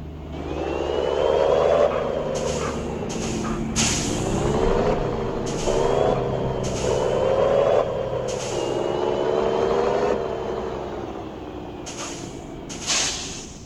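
A heavy truck engine idles and revs in the Heavy Truck Simulator video game, a loud steady diesel drone rising and falling in pitch, punctuated by several sharp hissing air-brake bursts, with no talking.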